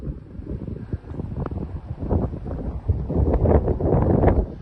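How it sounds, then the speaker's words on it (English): Wind buffeting a microphone during an outdoor run, loud rumbling low gusts that swell and fade irregularly, growing stronger toward the end, with no clear talk. "Can you even hear my voice now, the wind blowing?"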